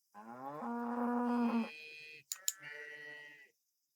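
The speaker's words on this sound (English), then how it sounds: "We get to milk the cows." Cows in the farming video game Coral Island give a drawn-out moo followed by a shorter second call, with a couple of brief clicks between them, clear and close with no talking.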